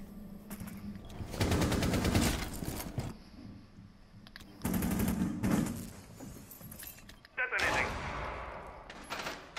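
Rapid automatic gunfire comes in two long bursts from the character Frost in a tactical shooter video game. A later burst follows, and players talk over the shooting through team chat.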